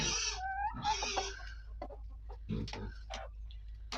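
Close-up rooster calls, an old rooster harassing a young one, with a harsh, drawn-out crow-like squawk at the start, followed by scattered clucks and short cries over a low background hum.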